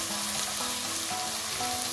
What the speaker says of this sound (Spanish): en este aceite que está bien caliente echamos la cebolla